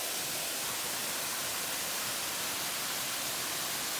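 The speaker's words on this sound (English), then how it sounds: "She's having a drink in the waterfall." Steady broadband rush of a jungle waterfall in Sumatra, a continuous even roar of falling water at moderate level with no voices.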